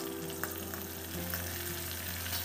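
Curry leaves and finely chopped coriander frying in hot oil for a brinjal curry give a steady, close sizzle with a low hum beneath and faint stirring scrapes, no voices.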